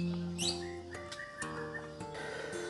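A white-rumped shama (murai batu) in its molting period sings close by, giving a varied run of clear whistled notes, chirps and sharp high flourishes that carries on without pause and is heard alone.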